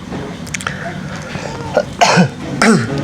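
A few short coughs and a throat clear, close and fairly loud, over a quiet background.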